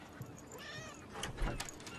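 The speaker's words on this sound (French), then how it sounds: "Je crois qu'il y a votre chat qui est dehors aussi." A domestic cat meowing outdoors, a short faint cry or two with light rustling behind, no talk.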